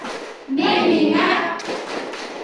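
A classroom of children claps hands together in a quick burst following a chant, close and lively, with a voice or two mixed in.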